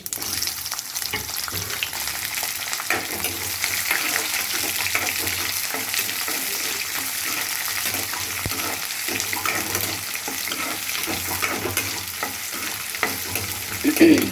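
Mustard seeds, urad dal, peanuts, chili and onion fry in hot oil, giving a continuous close sizzle with scattered crackles and scraping stirs throughout.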